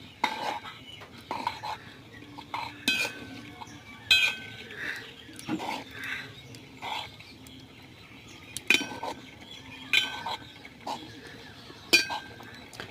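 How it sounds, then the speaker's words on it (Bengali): Metal spoon scraping and clinking against a cooking pot while bottle gourd greens are stirred with salt, a series of irregular sharp clinks and scrapes, close and fairly loud, with quiet gaps between strokes. "তো আমি আবারও নেড়ে দিচ্ছি যাতে লবণটা সবখানে মিক্স হয়।"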